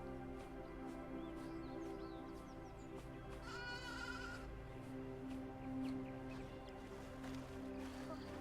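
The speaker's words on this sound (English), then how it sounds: "Oh, look at the baby sheeps!" Baby sheep bleat in the video game AER: Memories of Old, a short, wavering bleat rising briefly over a steady ambient music bed with tonal layers throughout.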